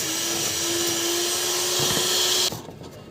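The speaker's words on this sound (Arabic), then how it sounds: "هدخل بقى عليه بالمضرب كده، بس مش عالي قوي، بالراحه كده" An electric hand mixer whirs at a steady low speed through an ice cream mixture, a constant close motor hum that cuts off abruptly near the end.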